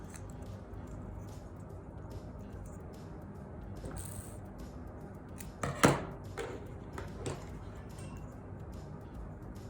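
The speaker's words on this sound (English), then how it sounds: "just cut a little piece like this and glue it around like that." Scissors snipping a small piece of paper while crafting a mini paper purse, a quiet crunchy cut or two standing out briefly above low background noise, without talking.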